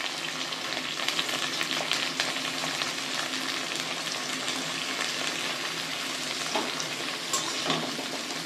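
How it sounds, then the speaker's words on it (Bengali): Chopped onion, garlic, tomato and chili sizzle in shallow oil seasoned with cumin, a steady close frying hiss with occasional stirring scrapes and no talking. "এবার আমি পেঁয়াজ, রসুন, টমেটো, লঙ্কা সব এর মধ্যে কোচানোগুলো দিয়ে দিলাম।"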